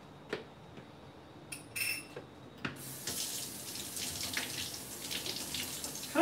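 A few light clinks of a salt shaker being handled, then running tap water pours steadily into a sink as it is washed, close and moderately loud, with no speech.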